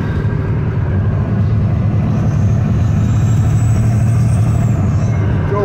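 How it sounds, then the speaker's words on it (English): An old turbocharged truck pulling away under acceleration, a loud, steady, close-up engine drone with heavy low rumble and a faint turbo whistle riding above it, no voices. "This old turbo truck gets up on the turbo,"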